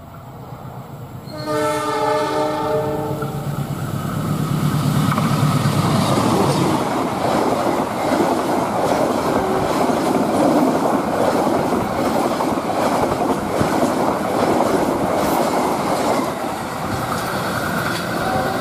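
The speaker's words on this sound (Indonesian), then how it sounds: "Keretanya sangat cepat sekali di sini ya." A fast passenger train runs straight through Arjawinangun station in Indonesia, its horn sounding briefly before a loud, continuous rush of rumbling wheels and clattering cars that holds steady to the end.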